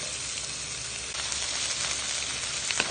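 String beans (sitaw) sizzling steadily in a hot pan with pork cube seasoning, a bright hissing fry that grows slightly louder partway through as the beans go in, with a few small crackles and no talking.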